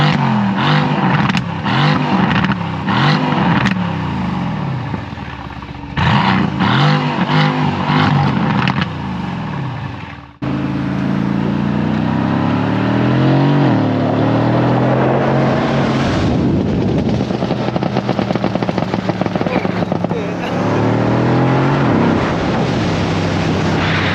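A 2018 Mercedes-Benz C63S AMG roars under hard acceleration, its loud engine revving and surging in waves while the tires slip for traction, with a short break before another long, sustained pull and heavy wind noise.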